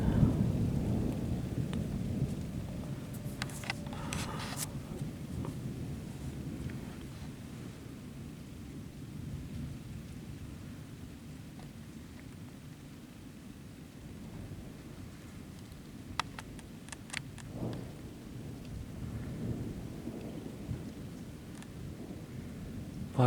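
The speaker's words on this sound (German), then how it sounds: "Was das für Donner sind, ey." Deep rumbling thunder rolls through a heavy nighttime thunderstorm with hail, over a constant wash of rain, with a few brief crackling peaks and distant low booms rising and fading across the scene.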